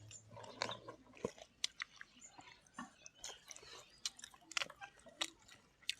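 Crispy fried spring roll stuffed with red pork being bitten and chewed up close, a steady series of crunchy bites and wet mastication sounds with no talking.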